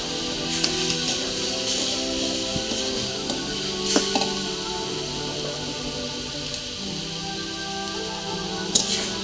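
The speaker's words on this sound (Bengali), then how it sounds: "একটু নেড়ে চেড়ে নেবো।" Chopped greens frying in a pan with ground roasted cumin, stirred in irregular scraping strokes over a bright continuous sizzle, with a sharp clink of utensil on pan now and then.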